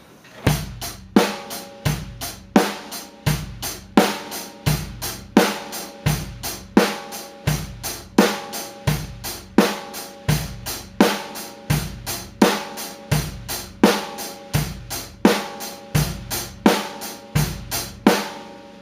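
A drum kit plays a steady, repeating groove with kick, snare and cymbals, evenly paced and fairly loud, no voices.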